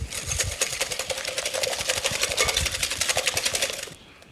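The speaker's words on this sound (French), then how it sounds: "On va mettre la moitié de notre sucre dans nos jaunes. Et on va venir donc blanchir ceci." An electric mixer whisks egg yolks with sugar for pancake batter, a loud continuous rattling whir with fast rhythmic pulses close up, cutting off near the end.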